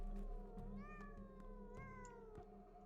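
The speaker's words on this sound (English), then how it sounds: "Hello, cat." A cat in the video game Pathologic 2 lets out a drawn-out, rising and falling meow, then a second shorter one, clear and close over a low background hum.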